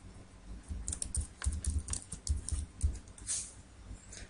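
Keys clatter on a computer keyboard as a form title is typed, an uneven run of light clicks in short bursts, close and fairly quiet with no voice.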